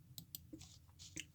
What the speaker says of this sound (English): If you can hear clicking, that is me with my mouse